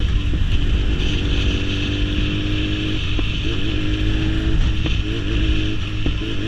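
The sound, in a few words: BMW S1000RR inline-four motorcycle engine crackling and backfiring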